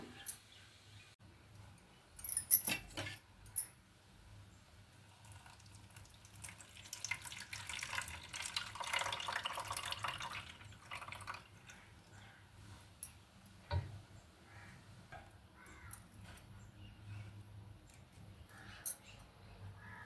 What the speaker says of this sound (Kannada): ನೋಡಿ ಮಿಕ್ಸಿ ಮಾಡ್ಕೊಂಡಾಗಿದೆ ಇವಾಗ ಇದನ್ನು ಸೋಸ್ಕೊಳ್ಳೋಣ